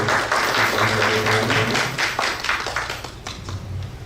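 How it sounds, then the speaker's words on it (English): Audience applause at an interfaith Harmony Week event, a dense, steady clapping from a crowd that runs loud for the whole stretch and eases off slightly toward the end, with no talk over it. "So if we could give a round of applause for"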